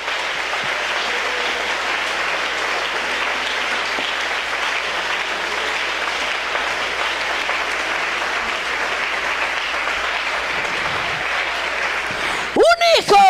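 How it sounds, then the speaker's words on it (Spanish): Church congregation applause, a dense continuous roar of clapping filling the room for over ten seconds, with a few sharp sounds and a voice breaking in near the end. "Dale un aplauso a la gloria de Dios."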